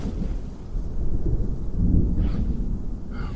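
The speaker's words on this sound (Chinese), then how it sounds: "不是雷，是引擎声，是大车，很多大车啊！" The engines of many big trucks rumble in the distance as a deep, continuous roar that swells louder as they approach.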